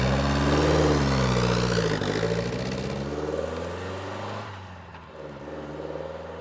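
A Lotus Esprit sports car from the 1976-launched line drives along, its mid-pitched engine droning steadily and then easing off, close and continuous, with no talking.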